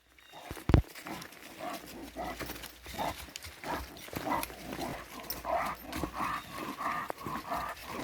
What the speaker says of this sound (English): You hear my dog panting